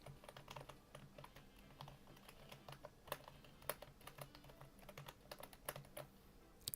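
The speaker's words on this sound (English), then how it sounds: "Can you hear my keyboard?" Quick, uneven keystrokes on a computer keyboard, faint and close, a continuous patter of light clicks with occasional sharper taps and no voices.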